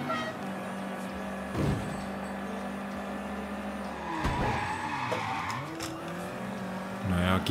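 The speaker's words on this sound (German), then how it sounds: "Mal sehen, ob der noch ein bisschen Gas geben kann, der Wagen." A car revving and accelerating in Mafia 3, its engine droning loud and steady with tire squeal and skidding through the middle, over a continuous background of game sound.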